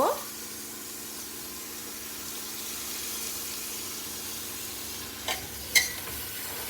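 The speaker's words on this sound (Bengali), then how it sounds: "আর একটা করে চিকেন লেগগুলো দিয়ে নেব, হালকা করে ভেজে নেব।" Chicken legs and carrot frying in a pan, a steady low sizzle running throughout with a few brief louder clatters near the end as the food is stirred.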